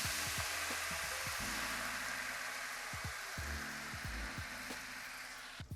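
Pinot Grigio white wine sizzling in a hot cast iron pan for a salmon and shrimp cream sauce: a steady, bright hiss of bubbling liquid, close and even, with faint utensil knocks underneath.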